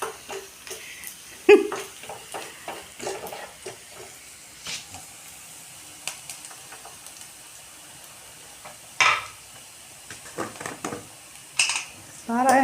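Onions for a vegetable cutlet sauté in a pan with a soft steady sizzle, broken by intermittent metal clinks and scrapes of stirring, close by, with some brief talk.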